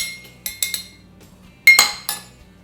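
A utensil clinks sharply against a bowl while stirring batter for a Pennsylvania Dutch funny pie, a handful of close, bright ringing taps in quick irregular bursts with quiet gaps between.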